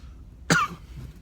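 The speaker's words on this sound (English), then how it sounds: "my throat dries out, and then I get that cough back again" A single short cough, close and fairly soft, against a quiet background.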